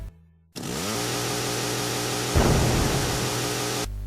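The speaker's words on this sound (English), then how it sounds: "Big guy with the massive chainsaw, as cliche as you can get." Massive chainsaw wielded by a big boss in the zombie shooter House of the Dead: the engine snarls into a loud, continuous buzzing roar after a brief silence, swelling harsher midway and running without pause.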